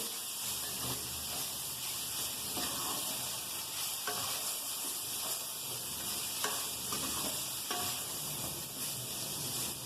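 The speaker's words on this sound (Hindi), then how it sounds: "तो थोड़ी देर फ्राई करेंगे।" Half-boiled peas and vegetables frying in a pan for elbow macaroni, giving a steady loud sizzle throughout with occasional stirring clicks and scrapes, no voices.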